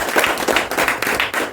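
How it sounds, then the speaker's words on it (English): An audience at a Toastmasters club meeting claps for the speakers and role players, a short, lively run of close handclaps with a rapid, uneven rhythm. "Big round of applause to all the speakers and role players."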